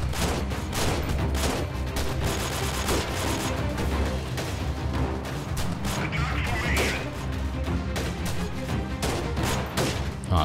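Dense gunfire and explosions fill a battle in the Freeman Guerrilla Warfare video game, with continuous loud volleys and booms and no letup.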